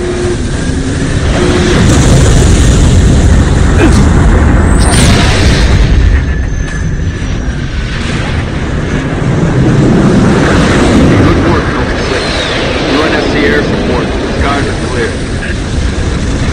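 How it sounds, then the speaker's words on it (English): Heavy bomb blasts and rumbling booms from an aircraft bombing run in Halo Reach roll through a dense battle din, loud and sustained, with a deep swell near the middle and scattered bursts among radio chatter and voices. "permission to commence bombing run"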